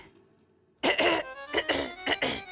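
A person loudly clears their throat in a few harsh, rasping bursts, close up, following a brief quiet stretch.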